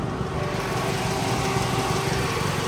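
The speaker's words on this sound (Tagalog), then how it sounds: "Ito yung makina nito ngayon guys." A car's 4 EFTE turbo engine idles, a steady, dense mechanical hum with a constant low drone and faint whine, close and fairly loud throughout, with no talking.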